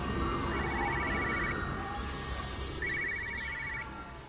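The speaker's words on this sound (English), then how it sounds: "No, I hear a phone." A telephone rings in the video game Everybody's Gone to the Rapture, two bursts of rapid trilling bell rings, faint and separated by a pause over a low ambient hum.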